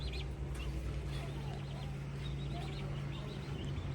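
A group of five chickens in a pen gives off a continuous stream of clucks and squawks, close and fairly busy, over a steady low hum, with no speech.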